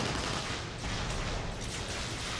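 Weapon fire in the game Tribes, a dense crackling barrage of shots mixed with explosions, continuous and fairly loud without clear gaps.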